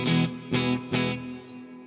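Electric guitar through a neck single-coil lipstick pickup paired with a Gibson Burstbucker on a modified SG Junior: three strummed chords ringing bright and slightly overdriven, the last one left to sustain and fade, with no voices.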